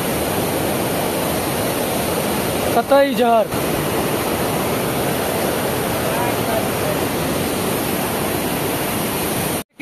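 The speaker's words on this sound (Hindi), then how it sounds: "पानी कैसे गिर रहा है, बहुत ज्यादा इंटरेस्टिंग लग रहा है।" Namaste Jharna waterfall in Nepal gives a steady, loud, broad rushing roar of falling water for the whole stretch, with a brief voice speaking over it partway through.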